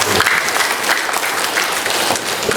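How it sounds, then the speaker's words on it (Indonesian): An audience at a village heads' neutrality outreach session for the Tulang Bawang Barat regional election breaks into dense, steady applause that fills the room without a pause. "Tepuk tangan dulu"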